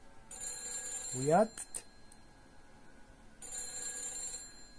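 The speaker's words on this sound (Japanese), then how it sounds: "あ、電話かかってきましたね。" A telephone rings inside the PS2 horror game Silent Hill, giving two bursts of high electronic ringing separated by a pause in which someone briefly speaks.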